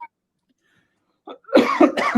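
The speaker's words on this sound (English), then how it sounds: "the cough's driving me up the wall" A single short cough sounds near and fairly loud, followed by a brief pause and then a longer burst of throat-clearing or coughing.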